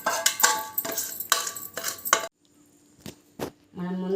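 A spoon clinks and scrapes against a pot while tempering oil with mustard seeds, cumin and garlic is mixed into ginger pickle, several quick metallic strokes followed by a short pause, then a voice begins speaking.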